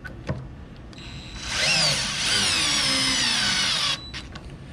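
DeWALT 8V MAX gyroscopic screwdriver, model DCF680N2, driving screws into a wooden block on a weak battery, a high whirring motor whine rising then holding steady for about two and a half seconds before cutting off, close and loud.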